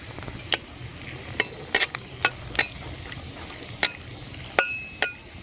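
Dry red chillies and nigella seeds sizzling in hot oil for a pointed gourd mash, a soft steady crackle under scattered sharp clinks and stirring taps.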